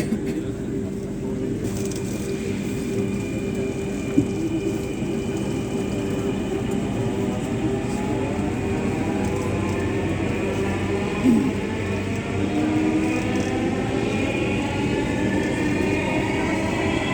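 A Dhaka metro rail train running, a steady loud rumble with a smooth, rising electric motor whine that continues without pause for the whole stretch.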